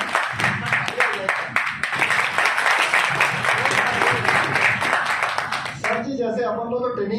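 Audience applause at a company seminar, dense continuous clapping from a room full of people lasting several seconds, then giving way to someone speaking.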